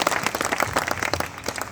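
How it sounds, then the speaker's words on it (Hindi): Enthusiastic applause from a crowd at a Hindi poetry gathering (kavi sammelan), dense clapping filling the whole moment without letup. "जोरदार तालियां बजा दें।"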